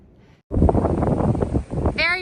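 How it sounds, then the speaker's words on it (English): Strong wind gusts buffet the microphone on an exposed mountain ledge along a hiking trail, a loud, rough roar that starts abruptly after a quiet moment and keeps blowing steadily. "Very windy."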